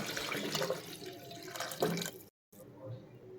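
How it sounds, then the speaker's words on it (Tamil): Water pours and splashes into a cooking pot at close range while making rice and lentil dish, a gurgling rush that stops abruptly, then quieter dripping and faint kitchen sounds. "டம்ளரில் ஒரு 3 டம்ளர் தண்ணி ஊற்றிக்கலாம்."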